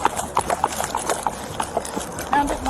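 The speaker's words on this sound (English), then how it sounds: "The officer is mounted on a horse, chasing an escaping suspect in a parking lot and yelling for him to stop." A police horse's hooves clip-clop at a quick, uneven pace across a parking lot during a mounted chase after a fleeing suspect, with voices and shouting mixed in.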